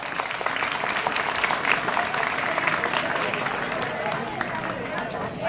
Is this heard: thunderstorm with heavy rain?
no